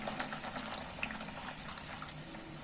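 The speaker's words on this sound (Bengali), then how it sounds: "আলুগুলো সেদ্ধ হওয়ার জন্যে আরও খানিকটা জল দিয়ে দিচ্ছি" Water poured into a cooking pot of spiced potatoes being braised for boiling, a steady, close splashing wash of liquid that continues evenly throughout with no talk.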